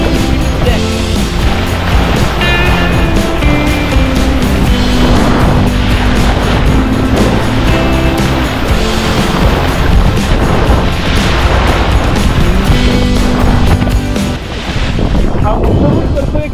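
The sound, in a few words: small boat moving on the sea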